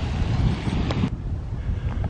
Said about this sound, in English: See that famous Casper wind blowing the flags.